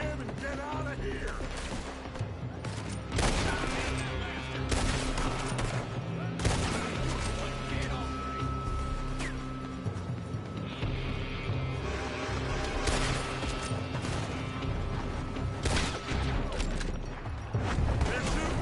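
Gunfire in Red Dead Redemption II during a shootout around a building: repeated sharp shots and volleys scattered across the scene at moderate loudness, with voices talking throughout.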